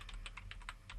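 Quick keystrokes on a computer keyboard tap out a web address, about eight crisp clicks in a brisk run, close and alone.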